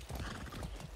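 A horse in the video game Far Cry 6 clip-clops along in a quick rhythmic gait, its hooves thudding close and steady for a moment with a faint whinny.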